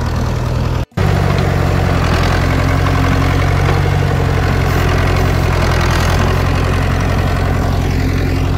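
A tractor engine idles steadily on a farm, a loud, close, continuous low drone with a brief dropout near the start, alone without talk.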